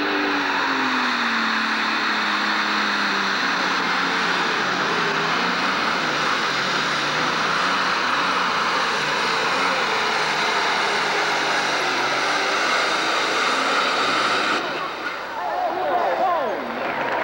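A tractor-pulling engine fitted with four turbochargers roars loud and steady at an American Tractor Pulling Association event in Madisonville, Kentucky, a sustained high-pitched turbine whine that holds for about fifteen seconds before dropping off.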